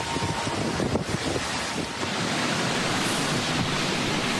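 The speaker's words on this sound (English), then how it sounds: "you can just hear those strong winds right there in the background and the water rushing under the street in Port Charlotte" Strong Hurricane Milton winds roar in Port Charlotte, Florida, with storm surge water rushing under a street, a loud, continuous broadband rush buffeting the microphone throughout, with no talk.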